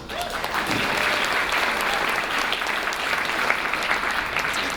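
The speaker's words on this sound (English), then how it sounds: "So I think they deserve a round of applause." Wedding reception guests applaud the hosts with steady, full clapping from a crowded room, holding at an even level throughout with no speech over it.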